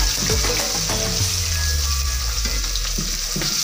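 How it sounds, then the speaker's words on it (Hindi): Red masala fish frying in oil, a steady broadband sizzle running throughout at close range with a few soft clinks and stirring bumps, no voices. "अब ये हम दूसरा जो मैंने आपको रेड मसाले वाली मछली बताई थी ये मैं वो फ्राई कर रही हूँ"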